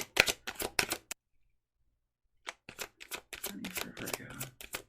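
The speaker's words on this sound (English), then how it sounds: "Okay, let's look at money. One more shuffle." Tarot cards being shuffled by hand in bursts of quick riffling and slapping, then a pause of silence, then more brisk card handling close to the microphone.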